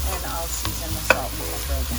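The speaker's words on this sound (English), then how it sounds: "So we've sauteed our mushrooms" Mushrooms sautéing in a pan, with a spoon stirring through them over a soft, steady sizzle. There are light scrapes and a single sharp clink of utensil against the pan partway through.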